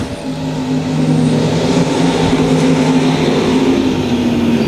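Race cars in a USRA Nationals heat race at Lakeside Speedway roar steadily through a turn, a loud, continuous engine drone with a slight rise partway through, with no voices.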